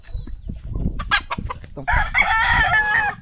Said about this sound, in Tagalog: Mga manok natin naman.